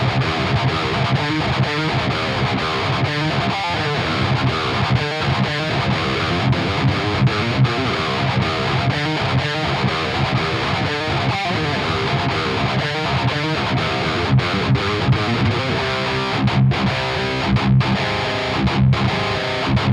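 A distorted electric guitar runs through a Neural DSP Quad Cortex with an 808 boost, a gate and a Marshall vintage cabinet, playing dense chugging riffs that stay loud and continuous throughout, with no talking.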